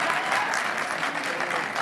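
Audience applause fills a theatre hall during an entrepreneur awards event in Soweto, a steady dense wash of clapping from a crowd that holds even for a couple of seconds, with faint voices mixed in.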